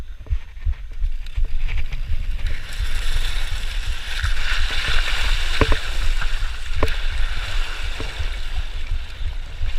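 A bicycle ridden through a river, its wheels churning water in a steady, close splashing rush that lasts throughout, with occasional sharper splashes and no talking.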